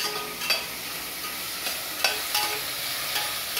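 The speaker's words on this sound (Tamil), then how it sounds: "வெங்காயம் போட்டு நல்லா மெரூன் கலர் வர அளவுக்கு" Onions sautéing in a pan with cloves and bay leaf for mushroom biryani, a fairly quiet steady sizzle with several sharp spatula scrapes and clicks at intervals, no talk.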